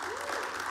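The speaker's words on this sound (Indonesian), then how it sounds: "Beri tepuk tangan buat Tuhan kita." Brief burst of applause from a church congregation during a sermon, steady moderately loud clapping lasting under a second.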